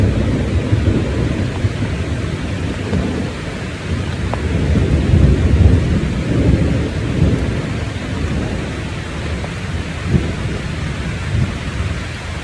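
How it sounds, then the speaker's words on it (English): Steady rain pours throughout while low thunder rumbles and rolls continuously, swelling louder near the middle, with a sharper crack around four seconds. "the last night we ended up having a pretty active lightning and thunderstorm"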